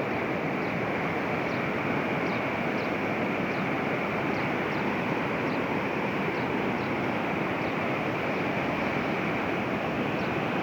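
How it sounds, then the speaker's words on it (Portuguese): A river swollen by heavy rain rushes past in a steady, dense roar of turbulent water, loud and unbroken for the whole stretch with no voices. "a força da água."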